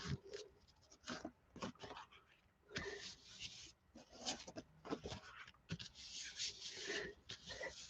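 Paper is rubbed by hand onto a paint-covered Gelli printing plate: soft, faint, intermittent brushing and scuffing strokes in irregular bursts, quiet and close, with no one talking.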